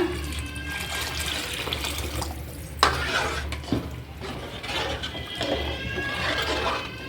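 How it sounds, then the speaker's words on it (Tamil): Water splashes and pours into a pot of fish curry, a continuous liquid rush with a few clanks, close up and fairly quiet. "குழம்புக்கு தேவையான அளவுக்கு தண்ணி ஊற்றிக்கோங்க."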